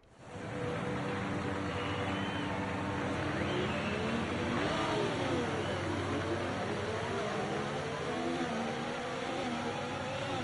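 An F1 car engine in the F1 24 racing game, on a wet Texas Grand Prix track, holds a loud, sustained high-rev drone from start to finish, close and steady without a break.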